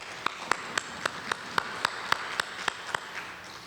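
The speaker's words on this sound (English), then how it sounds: "just start with giving you guys all a round of applause for each other" An audience in a Native language workshop claps together in a steady, rhythmic beat of about a dozen crisp, evenly spaced claps, with no talking over it.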